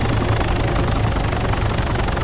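Two helicopters pass close by, filling the air with a loud, continuous rotor drone that throbs evenly throughout.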